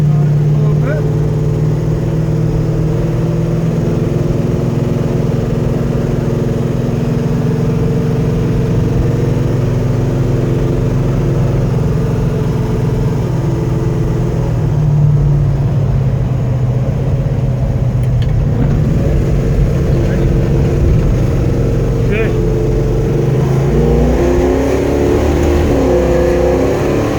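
A 1967 Chevy Chevelle 427 SS, frame-off restored, gives a deep, steady V8 rumble from inside the car on a test drive, with the pitch swelling as it pulls harder.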